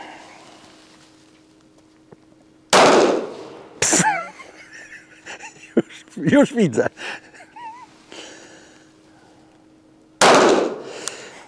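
Airsoft pistol, an AREX Delta Glock-style gun, fired at a target: a few sharp, loud broadband cracks spaced seconds apart, with people talking briefly between shots.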